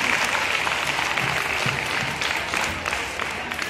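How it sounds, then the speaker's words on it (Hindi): Schoolchildren in grades six to eight applaud at a school prize ceremony, giving steady, dense clapping that carries on evenly throughout with no clear speech. "तो ताली बजाने के लिए बोला हूँ कक्षा 6वीं 7वीं 8वीं"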